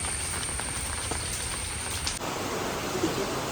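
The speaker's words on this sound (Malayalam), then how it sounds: "നല്ല ഘോര മഴ" Dense, steady hiss of heavy rain pours down without a break during a storm, a constant broadband roar that shifts slightly in tone partway through.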